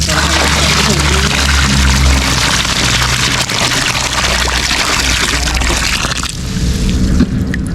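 Water is poured into a cobra's burrow in the ground, giving a loud, continuous rushing splash that fills the whole stretch and eases slightly near the end, with people's voices mixed in.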